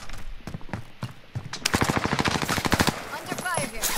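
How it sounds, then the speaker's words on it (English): Rapid automatic gunfire from a Call of Duty Modern Warfare match, with a few scattered shots at first and then a dense, loud burst of fire. Brief speech is mixed in. "Under fire here."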